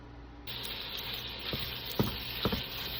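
Sausage, onions and red pepper sizzle in a hot pan, a steady frying hiss that starts abruptly, with a few utensil knocks and scrapes near the end, close and alone without talk.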